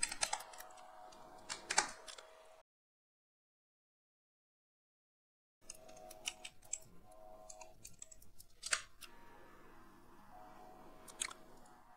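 Keys clatter close-up as someone types into a web browser while setting up port forwarding. The keystrokes come in irregular bursts, broken by a few seconds of total silence in the middle.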